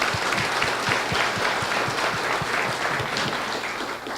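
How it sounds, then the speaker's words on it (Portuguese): Audience applause for a speaker at a public-speaking talk in Blumenau, steady brisk clapping from a crowd, fairly close and continuous for a few seconds. "Valeu, salve de palmas para o Maurício."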